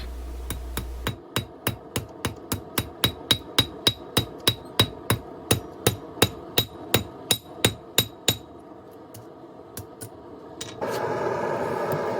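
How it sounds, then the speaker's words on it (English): Steady, evenly spaced hammer blows ring out sharply on thin flat metal stock being forged into a spoon, about two per second, before they stop and a broadband hiss takes over. "It takes a little bit more patience and a lot softer of hammer blows."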